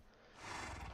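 A horse in Minecraft gives a brief, faint neigh, a single short whinny rising over quiet background.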